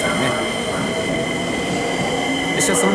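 A commuter train runs along the rails toward Kinshicho Station in Tokyo, giving a steady, loud, close rumble from inside the carriage, with a couple of brief high wheel squeals near the end and no talking.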